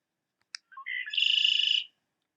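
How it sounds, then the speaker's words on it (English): A red-winged blackbird gives a single close, clear song: a few short introductory notes followed by a buzzy trill, against silence. "Now the sure sign of spring is a red-winged blackbird."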